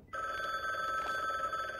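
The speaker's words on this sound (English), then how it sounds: "the phone is ringing." A telephone rings in the video game The Bookwalker: Thief of Tales, a steady electronic bell tone that starts abruptly and continues unbroken and fairly loud.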